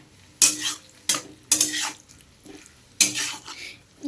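Cauliflower tossed and stir-fried with spices in a pan for a vegetarian Bengali dish: four or five loud, close bursts of scraping and sizzle as the spatula turns it, with quieter gaps between.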